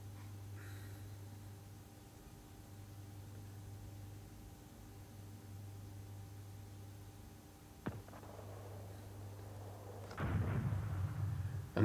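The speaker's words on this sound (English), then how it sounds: "there goes the 66th bombarding the objective at Steinbrück" Artillery in the wargame Command Ops 2 fires: a low hum with a sharp distant blast, then a heavier rumbling explosion building toward the end.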